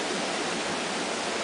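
Cold water rushing steadily at a water intake for a rural aqueduct, a constant broadband hiss at moderate volume with no talking.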